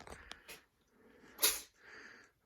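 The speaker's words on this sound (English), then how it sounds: "The cat's sneezing." A cat sneezes in a house, a short sharp burst in the middle, with a few softer snorts and breathy sounds around it.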